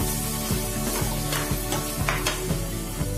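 Prawns frying in a hot pan, a dense continuous sizzle broken by regular scraping knocks of a spatula about every half second, close and fairly loud with no voices.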